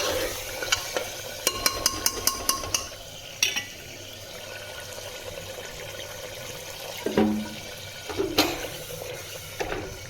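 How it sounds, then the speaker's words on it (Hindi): Food sizzles softly in a pan on a gas stove as a few drops of water are added, followed by light stirring and scraping at a moderate level, with no talking. "थोड़ा सा इसमें पानी की बूंद डाल देंगे, थोड़ा सा थरथरा करेंगे"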